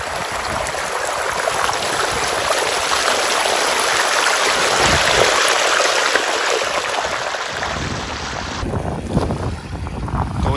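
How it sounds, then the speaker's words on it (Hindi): Irrigation water pours steadily into a field being puddled for planting, a continuous close rushing wash that stays loud throughout, with a slight change in texture near the end and no voices. "पानी चालू हो गया है"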